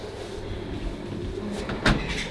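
A household door swings partly open with a short, moderately loud creak and thump near the end, heard close up over a steady room hum with no talking.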